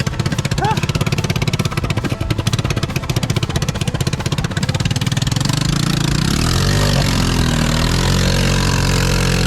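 A worn four-wheeler ATV engine runs close by, first with a rapid rough chugging and then rising into a steadier, louder revving drone, with a voice briefly heard over it.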